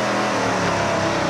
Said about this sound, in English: Let's listen to LP on the brakes and throttle.